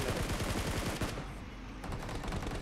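Rapid automatic gunfire in BGMI, played on an iPhone 13, rattles in dense bursts of close shots, pauses briefly, then resumes in another burst.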